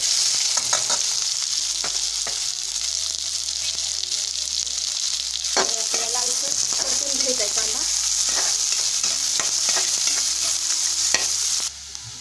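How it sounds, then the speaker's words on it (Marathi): Onion and garlic sautéing in oil in a pan give a steady, close sizzle with occasional stirring scrapes and clicks throughout. "आता आपला कांदा परतून झालेला आहे"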